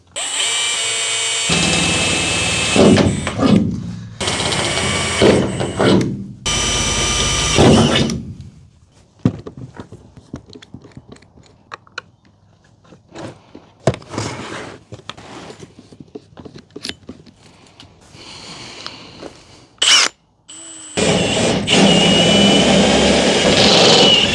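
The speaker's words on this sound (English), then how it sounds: "So we have drilled all our pilot holes." A power drill whirs in several short bursts drilling pilot holes in a Volkswagen Crafter van's bodywork, pausing between holes, with quieter clattering and handling noises in the gaps before a final long burst.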